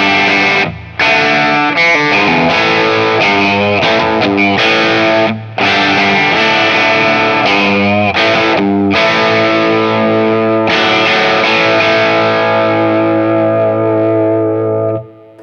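Vox Bobcat hollowbody electric guitar on its bridge pickup with volume and tone wide open, played loud through a distorted, effects-laden tone, chords and riffs ringing out with brief pauses.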